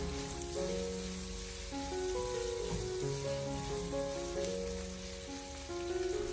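Sliced ginger, garlic and small chili peppers stir-fry over low heat in a wok with rendered pork fat, a soft, steady sizzle under quiet background music, without speech.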